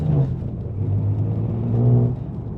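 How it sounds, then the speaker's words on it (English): A BMW M3 G80 with a manual gearbox accelerates on a bumpy rural road, its engine rumbling and rising in pitch with a whooshing, whistling intake note, heard close from inside the cabin. "You can hear the intakes like whistling and blowing and doing their thing"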